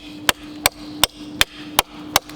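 The saw edge of a survival metal-detector shovel chopping wood in six sharp, evenly spaced strikes, close and loud, with a faint steady hum underneath.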